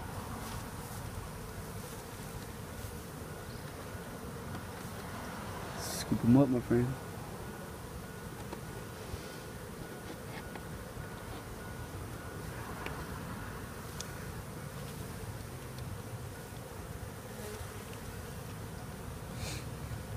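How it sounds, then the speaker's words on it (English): Honey bees swarming during removal of a hive from a window in Edinburg, Texas, a steady low buzzing drone throughout, with someone speaking briefly and a short clatter partway through. "Playing with them bees."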